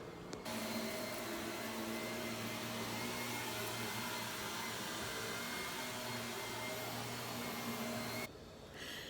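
A vacuum cleaner runs in a home during housecleaning, a loud, steady motor drone with a constant hum that continues unbroken for several seconds, then cuts off abruptly just before the end.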